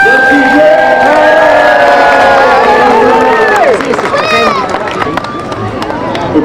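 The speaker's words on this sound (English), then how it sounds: "let's do one big cheer for the emergency services" Crowd at a road traffic collision demonstration by emergency services in Cardiff cheering and whooping loudly, layered with voices and tonal whistle-like sounds, then fading into general crowd chatter.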